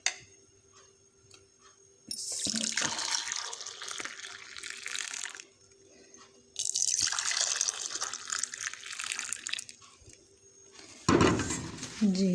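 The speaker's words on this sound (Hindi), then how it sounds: "अब हम डालेंगे इस कप्स में दूध।" Boiled milk is poured into cups in three separate streams, each a few seconds long, splashing and gurgling close by with quiet pauses between pours.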